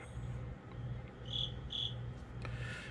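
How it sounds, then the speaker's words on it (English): A cricket chirps from inside a floor drain in a home studio, sounding as two or three short, clear, high-pitched trills at moderate distance over a low, steady background hum. "If you hear my cricket going off over here,"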